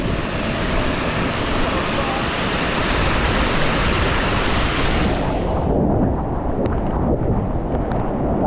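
Powerful floodwater surges past a bridge in a loud, unbroken roar; the broad rush drops in intensity near the end, leaving a lower churning flow.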